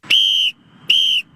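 Whistle sound effect played on a radio show: two loud, clean, steady whistle toots, each about a third of a second, separated by a brief gap, heard alone.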